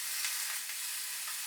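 Tomatoes fry in a pan with a soft, continuous sizzle and hiss, fairly quiet and close, with no talk over it.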